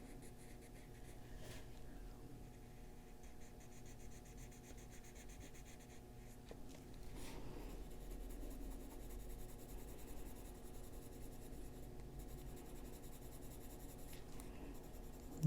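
Colored pencils shading and blending a frog drawing on paper, applied very lightly with creamy pencils: a soft, continuous scratchy rubbing of pencil lead on paper, close and quiet, with no voices.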